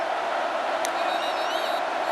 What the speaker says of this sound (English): And now the crowd's getting louder